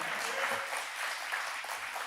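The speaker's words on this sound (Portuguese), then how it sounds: "pode aplaudir Jesus então" Church audience applauding, a dense steady patter of many hands clapping at moderate distance, sustained without a break.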